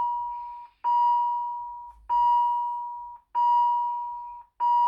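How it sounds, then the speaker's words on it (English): A patient monitor sounds repeating alarm tones while disconnected from a Rigel Uni-Sim patient simulator: four loud, pure, sustained beeps, each lasting about a second and fading slightly, with brief gaps between them and no talking. "it's going to give us a few alarms while we're disconnected"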